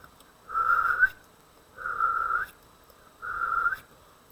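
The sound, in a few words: person whistling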